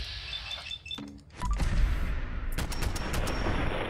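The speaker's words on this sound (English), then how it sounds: "But it is definitely going to be just shooting into them." Gunfire in the Fallout 4 video game, a sharp burst of shots followed by a dense rattle of rapid firing that continues loudly through the rest of the moment.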